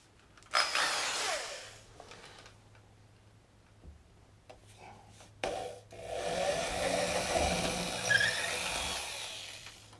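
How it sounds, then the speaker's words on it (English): Power drill bores an eighth-inch hole through drywall into wood blocking during a pedestal sink installation: two bursts of whirring motor and grinding bite, the second longer, close with quiet gaps between. "The next step is to drill an 1/8 inch hole through the drywall and into the wood"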